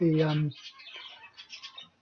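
A hen gives a short, loud tonal squawk, followed by a series of softer, quieter clucks and murmurs close by.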